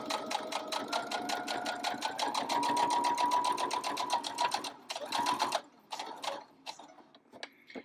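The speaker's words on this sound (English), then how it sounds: "I'm just gonna stitch around each letter" A sewing machine with black thread straight-stitches around fabric letters, a fast close rhythmic needle clatter that runs steadily, pauses briefly and then resumes in short bursts.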